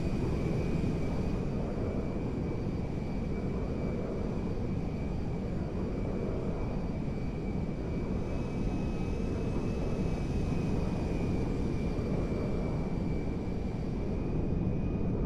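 Air Force One jet cruising in the GTA 5 video game, a steady dense low engine roar with a faint high whine held through the whole stretch, no one talking.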